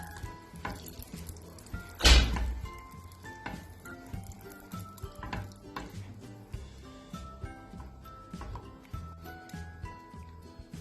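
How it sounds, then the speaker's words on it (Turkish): A spoonful of margarine stirred in a pan as it melts for a trileçe dessert: soft steady sizzle with light scraping strokes, one sharp thud early on, quiet and close. "Şimdi içerisine bir yemek kaşığı kadar e, margarin ekliyorum. Yağ eriyene kadar karıştıracağım."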